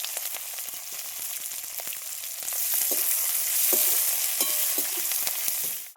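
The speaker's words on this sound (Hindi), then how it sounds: "उसके बाद यहाँ पर कटी हुई मिर्च और अदरक लहसुन प्याज सभी को डाल के हम भून लेंगे।" Chopped chili, ginger, garlic and onion frying in mustard oil for masala bhindi, a steady crackling sizzle with scattered pops and brief stirring scrapes, growing slightly louder midway, no voices.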